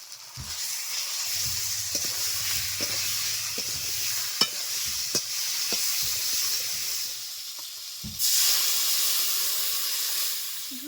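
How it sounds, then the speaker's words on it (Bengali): A pot of thin fish curry with potatoes and eggplant, seasoned with ginger, green chilli paste, salt and turmeric, simmers with a steady hiss and soft bubbling. Occasional clicks and stirring knocks sit over it, and a louder burst of steam comes near the end. "এখন টকবক করে ফুটছে আলুগুলো খুব সুন্দরভাবে গলে গেছে"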